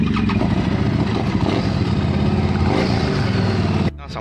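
A Triumph Street 900 motorcycle engine revs loudly and close by, a rough throaty roar that holds steady for several seconds before cutting off abruptly.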